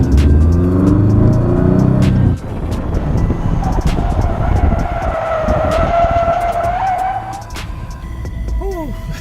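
Toyota 86 sports car spinning out, with loud engine rumble dropping away into a long tire skid and scrubbing squeal lasting several seconds, close and dominant with no talk.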